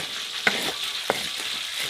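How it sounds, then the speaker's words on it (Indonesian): Chicken frying in hot oil makes a steady, close sizzle throughout, broken by a couple of sharp pops or stirring clicks, with no voices. "Ini bagian lagi goreng ayamnya."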